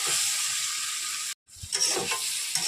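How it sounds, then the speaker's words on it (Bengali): Meat sautéing with red chilli powder in a pan, a continuous hiss of frying with a short gap, then renewed sizzle and a few stirring scrapes. "এবার কষে নেব"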